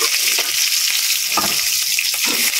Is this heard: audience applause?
no